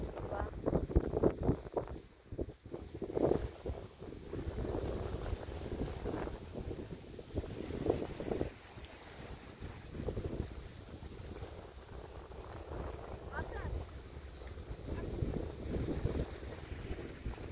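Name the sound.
wind blowing at the seaside in Bahrain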